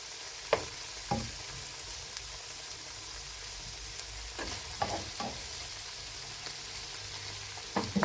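Frozen okra shallow-frying in a pan gives a faint steady sizzle, broken by a few sharp clicks and scrapes of stirring, with no voices.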